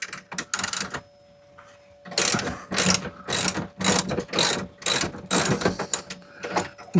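A spanner ratchets a bolt on a campervan seat base, loud close clicking bursts of rapid pawl ticks in repeated strokes with short pauses between them.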